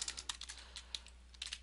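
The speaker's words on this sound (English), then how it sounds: "I'm going to type in up here plant" Quiet keystrokes tap on a computer keyboard in an irregular run of short clicks, fairly close and soft, with a low steady hum beneath and no talk.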